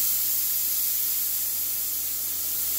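Compressed air hisses hard and steady from a paint spray gun applying 2K automotive paint in a home respray, a loud, even broadband rush with no breaks.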